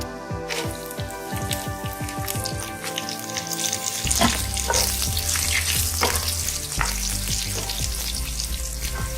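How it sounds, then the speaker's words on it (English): Garlic with bay leaves and whole red chilies frying in a pan, a steady close sizzle with scraping stirs, joined partway by a low tonal hum from background music. "roast the garlic nice and brown."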